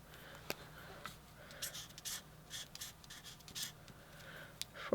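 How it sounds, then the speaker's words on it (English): A marker writes measurements on paper during a card-making craft project, producing faint, quiet scratchy strokes in short bursts against a hushed room. "Let me grab a marker and write that down"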